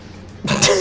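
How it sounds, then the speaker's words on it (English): A person clears their throat and then gives a short, loud cough close to the microphone, a brief burst after a quiet moment, while playing Shadow the Hedgehog. "The coughing."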